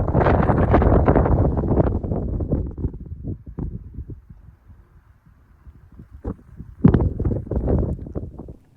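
Wind gusts buffet the microphone outdoors on a hillside near Kinder Downfall and the Kinder Valley, with heavy, close rumbling for the first few seconds, a calmer lull, then another strong gust before it fades.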